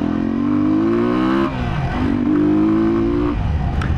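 A Honda CB125 motorcycle accelerates hard in first gear, its engine note rising loud and close in two strong pulls separated by a brief dip at a gear change, with no talk over it.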